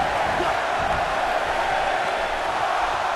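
Arena crowd noise from a WWE 2K18 Elimination Chamber wrestling match, a steady loud roar of cheering spectators sustained throughout without a break.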